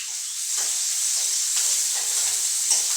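Cumin seeds, asafoetida and green chilli fry in hot oil, giving a steady, fairly loud sizzle and hiss with faint stirring scrapes throughout and no voices.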